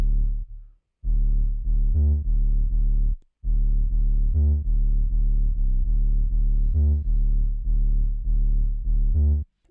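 Distorted 808 bass from a moombahton remix build-up pulses in quicker, almost continuous notes with brief accented hits, loud and up close, with only one short gap and no speech.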